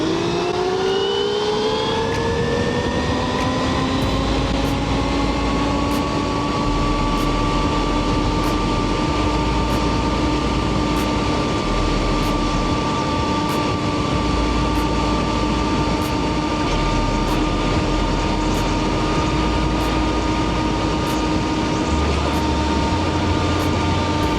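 An electric KOOZ RC car on a speed run with a new tune winds up to a sustained high-pitched motor whine, holding loud and steady for over twenty seconds, with no voices.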